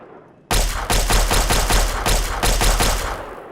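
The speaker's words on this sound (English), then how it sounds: "the special effect for Colonel Autumn's laser pistol" Colonel Autumn's laser pistol in Fallout 3, firing in a rapid run of sharp, loud shots. The bursts start suddenly and repeat at a quick, fairly even pace before trailing off, with no talk over them.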